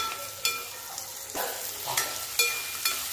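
Pea pods and fresh pigeon-pea vegetables fry in hot oil with a low steady sizzle, punctuated by a few soft scrapes of a stirring spoon.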